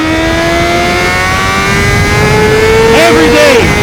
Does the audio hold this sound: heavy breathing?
no